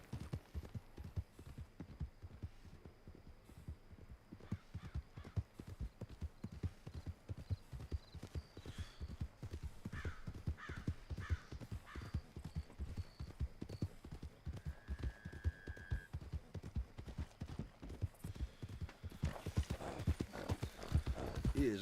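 Steady clip-clop of horse hooves on a hard surface, continuous and close, with an occasional faint whinny and a soft hum in the background.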